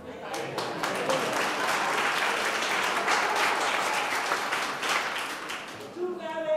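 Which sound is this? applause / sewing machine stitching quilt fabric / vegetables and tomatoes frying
applause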